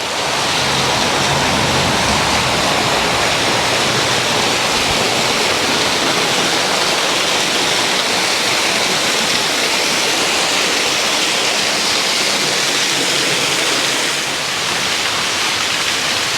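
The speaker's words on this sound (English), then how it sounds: "This is Scott's Waterfall in all its glory." Scott's Falls drops about ten feet into a small pool near a road at Pictured Rocks, Michigan, producing a constant loud broadband rush of falling water with no break and no voices.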